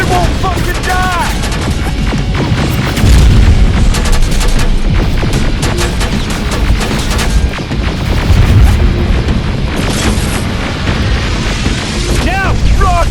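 Rocket explosions and heavy weapons fire in the Terminator: Resistance game, a loud, constant barrage of booms and gunfire that lasts throughout, with a voice shouting over the battle at times.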